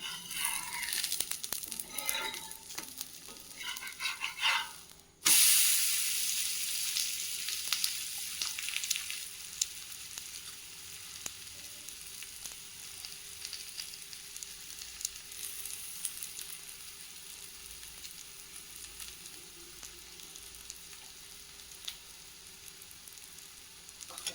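Ragi adai cooks on a pan over a low flame, a soft continuous sizzle after a sharp burst of louder frying early on, then steady and gentle with no talk.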